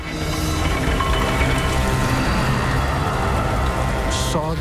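Heavy, steady rain pours down loudly, a constant wash of noise with a low rumble underneath throughout.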